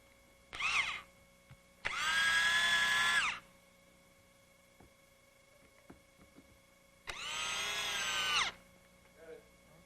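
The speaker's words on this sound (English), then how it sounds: "we can locate and secure the 3 nailers using wood screws." A power drill drives wood screws to fasten three nailers during finish carpentry on a fireplace mantel surround, with a short whir followed by two sustained, loud bursts of whining motor separated by quiet pauses.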